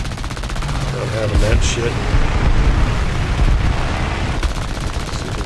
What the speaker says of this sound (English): Let's watch this I-15 over here shooting at our guy.